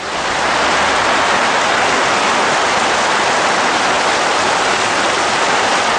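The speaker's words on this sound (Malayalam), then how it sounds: "ജില്ലയിൽ ഇന്നലെ പരക്കെ വേനൽ മഴ ലഭിച്ചു" Steady, loud broadband hiss of summer rain falling after dusk in Wayanad, Kerala, a dense continuous wash with no breaks and no voices, likely a heavy shower on surfaces close by.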